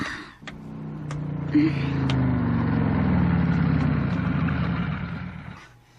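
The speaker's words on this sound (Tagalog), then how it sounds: "Sakay na lang diri sa akong motor." A motorcycle engine idles close by with a steady low putter and a brief blip of throttle early on, accompanied by a few light clicks before it cuts off.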